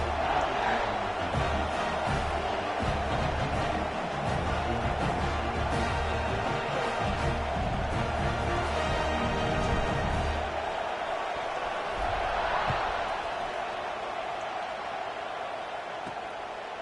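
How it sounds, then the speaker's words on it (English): College football stadium crowd before kickoff, a broad sustained roar of cheering fans filling the air, loud and continuous before easing slightly toward the end. "They're set to kick it off, and this crowd now ready to get behind them."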